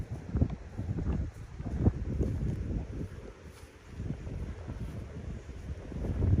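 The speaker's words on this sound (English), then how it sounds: "Sorry, it's getting a little windy." Wind gusts buffet the microphone in a steady low rumble near the ocean at Purissima ghost town cemetery, rising and falling in waves throughout, with no voices.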